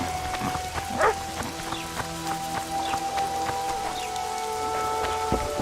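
Steady rain falls in the video game The Witcher 2, a soft continuous patter of drops on surfaces with a few sharper splashes, fairly quiet and unbroken throughout.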